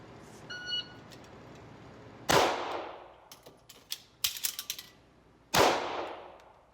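A MAC9 DS Comp fires at a shooting range: two loud, sharp, close gunshots ring out about three seconds apart, with clattering and clicking handling noises between them.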